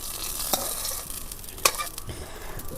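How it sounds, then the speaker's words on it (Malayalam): Mustard seeds tempered in hot oil and poured into a curry, giving a soft steady sizzle with a couple of sharp crackling pops, close and without voices. "എണ്ണ ഒഴിച്ച് കറി കടുക് മൂപ്പിച്ച് ഒഴിച്ചു"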